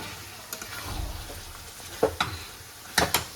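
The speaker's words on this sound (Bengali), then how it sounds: "এবার আলুটা দিয়ে একটু নেড়ে চেড়ে দিয়ে" Potatoes being stirred into browned, sautéed meat in a pan: a soft sizzle underneath with a few sharp scraping clacks of the spoon against the pan, close and clear, no talking.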